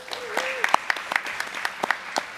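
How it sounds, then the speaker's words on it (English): Scattered clapping rises from the audience at a Hampton City Schools board meeting honoring teachers of the year, with sparse individual claps ringing out as a voice briefly speaks at the start. "You guys can definitely applaud."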